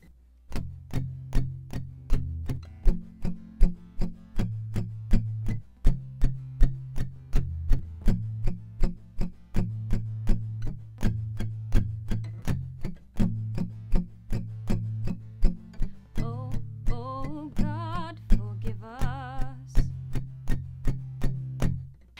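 Strummed guitar chords in an easy play-along of a song, a steady close rhythm with a loud tick-like click marking every beat underneath and no voice.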